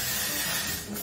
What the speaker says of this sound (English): and then I just add texture spray